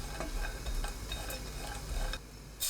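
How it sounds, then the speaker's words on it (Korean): Twenty dried soup anchovies stir-fry in a pot over high heat, giving a faint, steady sizzle with light scraping and ticking of stirring, and no voices. "냄비에 손질한 국물용 멸치 20마리 넣고 센 불로 1분 볶습니다"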